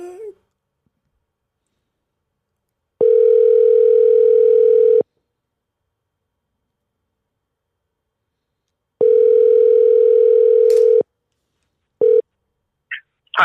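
A telephone rings out on a call that goes unanswered: two long ringback tones spaced several seconds apart over silence, then a short tone fragment and brief noises at the end.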